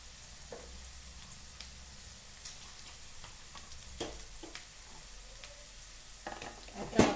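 Green chilies fry with potatoes in a pan at home, a quiet continuous sizzle with scattered ticks and clinks from stirring and a sharper clatter at the end, no speech heard.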